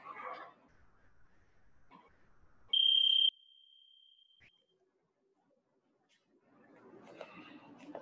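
A gym timer at a youth Brazilian jiu-jitsu class gives one loud electronic beep lasting about half a second, leaving a faint trailing tone, with quiet room murmur before and after.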